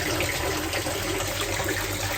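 Water pours steadily from a hydroponic pipe system, fed by a 3,000-litre-per-hour pump, into a buried reservoir beside Dutch bucket systems, making a continuous, even rushing splash close by with no talk.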